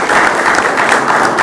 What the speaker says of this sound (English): could we give a round of applause for Zoe Science?